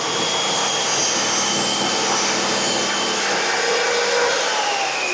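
A toy LEGO powered saw cuts through a piece of wood, making a loud, continuous whirring drone that stays steady for several seconds with no talk over it.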